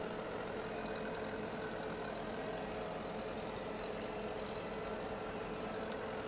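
A tractor engine runs steadily at idle on a farm, a continuous low mechanical rumble that stays even and unbroken with no talk over it.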